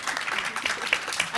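Audience applause at a panel event, a dense steady patter of many hands clapping together for just over a second, fairly close and loud, with no voices over it.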